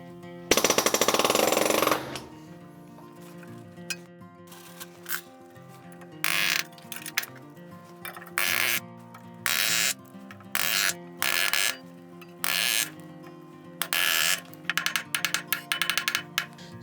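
A nail gun drives 3-inch nails into a deck stair stringer and its bracket, giving a long opening burst of noise and then a series of loud, close bangs at irregular intervals.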